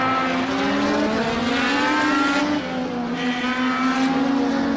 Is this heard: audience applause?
no